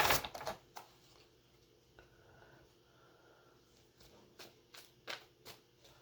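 Tarot cards shuffled by hand in a quiet room, a series of soft crisp riffles and taps in irregular bursts, close and faint.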